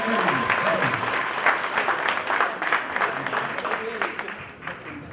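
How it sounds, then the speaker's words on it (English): An audience breaks into sustained applause, a dense wash of many hands clapping that gradually fades, with a speaker's voice heard briefly through it. "let's give him a round of applause"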